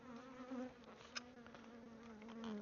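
Buckfast honey bees buzz at a four-box hive, a steady, faint droning hum with wavering pitch as individual bees pass close.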